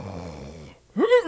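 A voice imitates snoring and loud breathing: a long, rough, rattling breath fades out, then after a short pause comes a louder, gasping intake that rises in pitch.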